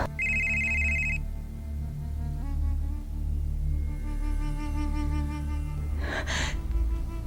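A telephone rings in a Hindi television drama scene. There is one short electronic ring tone at the start, then a sustained musical score plays, and a breathy gasp follows near the end.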